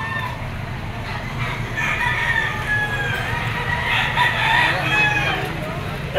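Several roosters crow over a busy background of clucking chickens at the Lipa auction market, with overlapping calls rising and fading from nearby and farther off as people talk in the crowd.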